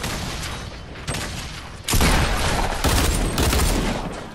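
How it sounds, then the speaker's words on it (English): Grenade blast and gunfire in Fortnite, a burst of shots followed by a loud, close boom near the two-second mark and a second heavy blast soon after, with crackling noise between them. "Grenade."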